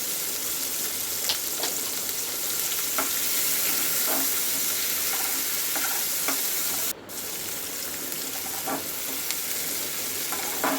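Chopped onion frying in hot oil in a pan with bay leaf, for a home-style desi chicken curry, a steady close sizzle and hiss with scattered soft scrapes and clicks of stirring throughout, with no talking.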